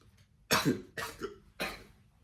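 Three harsh coughs in a row, close and loud, each a sharp burst with a brief gap between them.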